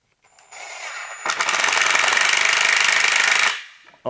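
A power driver sinks a screw into old wooden cabinets in a garage workshop, giving a loud, close rattling whir that holds steady for about two seconds before cutting off. No one speaks.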